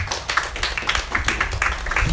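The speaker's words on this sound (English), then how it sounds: "I think that deserves a round of applause." Applause after a eulogy at a memorial gathering, a short burst of many hands clapping close by, fairly dense and even throughout.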